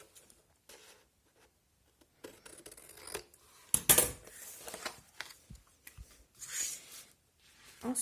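Scissors cut through paper for a scrapbook album cover, giving sparse, close snips and crisp rustling bursts, quiet at first and busier in the second half, with no one speaking.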